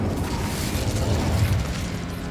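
Incendio fire spell in Hogwarts Legacy, a loud roaring burst of flame with a heavy low rumble sustained over a couple of seconds.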